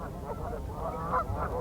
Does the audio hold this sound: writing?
no